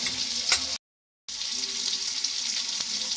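Bitter Bengali dal sizzles in a pan after about half a cup of water goes in, with a steady hiss and crackle up close, a spoon stirring, and a brief cut to silence partway through; no voices.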